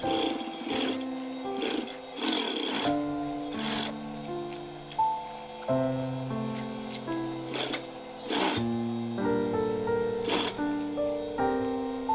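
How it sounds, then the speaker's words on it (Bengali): Stitching around the body of a fabric pencil bag on a sewing machine comes through as intermittent runs of a close mechanical hum, broken by short pauses and sharp clicks as the fabric is repositioned, with a tonal whine throughout. "পার্টটির চারিদিকে সেলাই করে নেব"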